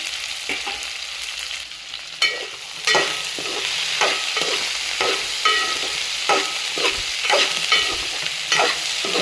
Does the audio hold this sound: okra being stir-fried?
yes